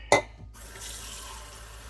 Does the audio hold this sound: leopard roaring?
no